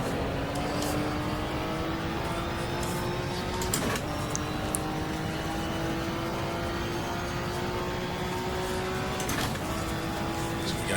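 A 1987 British Touring Car Championship car engine at Snetterton, heard from onboard, drones steadily with rising pitch as it pulls through the gears, a couple of brief breaks marking gear changes, loud and continuous.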